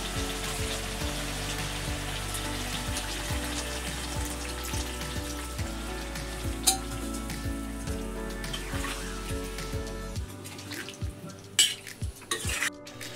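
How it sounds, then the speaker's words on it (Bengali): Water from rinsing a bowl goes into potato curry frying in a pan, a steady close sizzle and bubbling with stirring scrapes, easing as the liquid takes over near the end. "কষানো হয়ে গেছে, তেল কেটে গেছে, এখন আমি দিয়ে দিচ্ছি বাটি ধোয়া জল"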